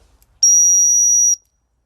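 A person gives one sharp, steady, high-pitched whistle of about a second to call a dog, loud and clear against otherwise near silence.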